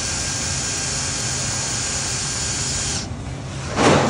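A battery-powered torque wrench rated to 1500 ft-lbs runs with a steady, loud motorized whine and hiss that cuts off abruptly, followed by a brief burst of noise.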